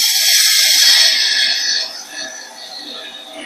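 A half-inch bowl gouge cuts away waste wood at the tailstock end of a mallet blank spinning on a lathe, giving a loud, steady scraping hiss that eases off partway through.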